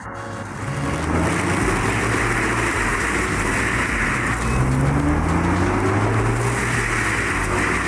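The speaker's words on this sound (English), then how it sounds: "A tractor struggles against the weight of a fully loaded logging truck on snow-covered ground." A tractor strains to pull a fully loaded logging truck across snow-covered ground, its engine a loud, continuous drone whose pitch slowly rises and shifts under heavy load.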